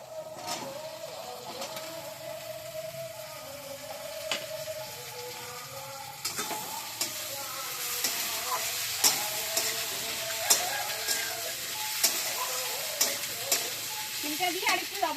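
Onions, potatoes and flat beans frying in a pan, a steady sizzle with intermittent scraping stirs and clicks that grow busier and louder toward the end.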